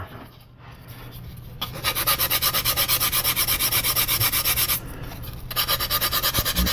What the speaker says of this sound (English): I'm going to sand this edge, the inside edge here.